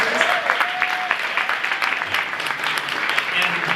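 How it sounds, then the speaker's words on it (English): Audience applause for facilitators at a Bay Area arts conference, a moderately loud crowd clapping in an indoor hall, with scattered voices mixed into it and a brief tonal whistle early on. "let's give a big round of applause to all of our facilitators"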